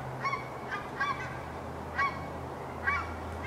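Several geese flying about 30 feet overhead honk in short bursts, a few calls spaced over a few seconds against a low steady background hum, moderately distant.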